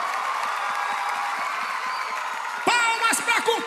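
A live-show audience at a 10th-anniversary concert applauds with a continuous wash of clapping and crowd noise. Near the end, a loud voice breaks in over the applause.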